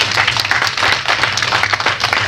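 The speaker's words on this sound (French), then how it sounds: "Merci de l'applaudir, l'acclamer, s'il vous plaît." A crowd bursts into brief applause at a 60th birthday celebration, a dense burst of many hands clapping at close range for a couple of seconds.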